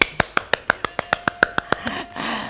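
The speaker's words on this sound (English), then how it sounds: "I'd like to take 5 seconds to give myself an applause" Rapid run of about a dozen sharp, evenly spaced hand claps up close, loud and isolated, tapering off after about two seconds into a soft wash.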